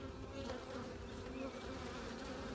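Honeybee worker bees tending brood inside a hive give off a steady, quiet buzzing hum, an unbroken drone heard close up.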